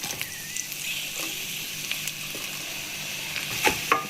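Onion dropped into hot oil with bay leaves for chicken chilli, giving a steady close sizzle throughout with a few brief clinks near the end, no talk.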